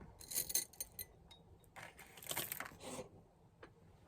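Small contemporary glass plate handled at a yard-sale haul, giving a few light clinks and taps in short bursts, fairly faint and close, with no talk over it.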